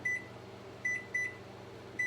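A kitchen timer gives short, high electronic beeps as its buttons are pressed to set one minute, four quick chirps spaced irregularly over a faint quiet room.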